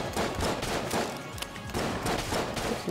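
Gunfire in the video game Exit the Gungeon, dense rapid shots merging into a loud, continuous fusillade that runs without a break, with no clear voices.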